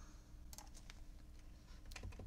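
Arrow keys tapped on a computer keyboard during a glass tile etching design job, a quick series of light, close clicks in two short bursts over faint background hum.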